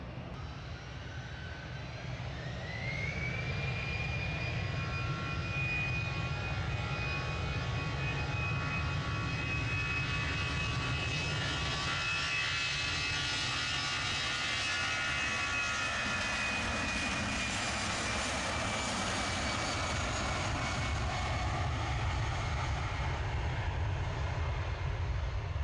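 Jet aircraft engines at Manchester Airport, a loud sustained roar with a rising whine that settles into a long steady tone, heard from a distance for over twenty seconds without talk.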